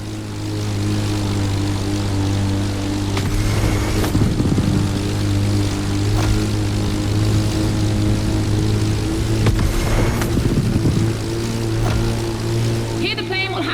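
Propeller plane engine droning steadily in The Crew Motorfest racing game, a loud constant hum with rising and falling surges as it turns, a car engine audible beneath, and a narrator talking over it throughout.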